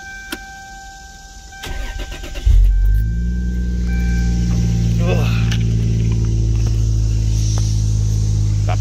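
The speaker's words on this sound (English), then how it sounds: "I'm gonna start it up." A Lexus SC300 with a turbocharged 2JZ-GTE VVT-i engine cranks and catches at once, then settles into a loud, steady low rumble that holds close by.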